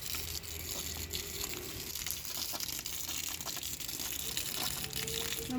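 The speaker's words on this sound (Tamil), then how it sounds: "இப்போ நம்ம வச்ச செடிகளுக்கெல்லாம் தண்ணி விட்டுடலாம்" Water is poured onto freshly planted plants in a home garden, a soft, continuous gushing trickle into soil heard fairly faintly with light crinkling handling sounds mixed in.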